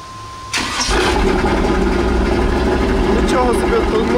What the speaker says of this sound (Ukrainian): Нічого собі, тут мотор рве.